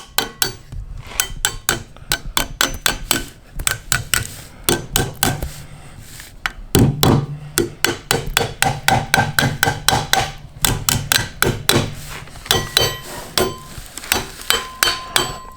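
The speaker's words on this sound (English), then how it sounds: "Take a little small hammer here where it starts." A small hammer taps repeatedly on metal, quick steady strikes in bursts with a brief pause midway, close and crisp with no talking, seating a part while assembling a Moser Engineering Fab9 rear end.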